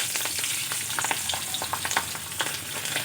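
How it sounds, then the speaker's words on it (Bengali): Nigella seeds tempering in hot oil for a neem-leaf and eggplant dish give a close, steady sizzle with frequent sharp crackles and pops throughout. "এখন আমি তেলের মধ্যে দিয়ে দেব কালো জিরে।"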